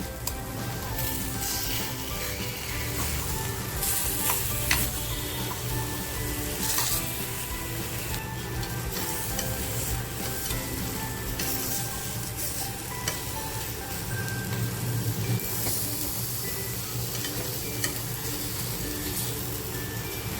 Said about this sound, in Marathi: थोडस तेल बाजूने सोडतीये आता ही आपण पलटी करूया